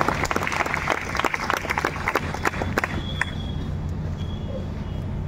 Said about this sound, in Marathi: तुमच्याच लेखाला जोरदार टाळ्या वाजवून कौतुक करू त्याचं